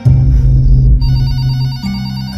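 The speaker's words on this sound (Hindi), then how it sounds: "रुकिए, मैं आश्रम में फोन मिलाती हूँ।" Telephone ringing on the line as a call is placed to an ashram: a steady electronic ring tone with a low hum, sounding loud and close, no voices.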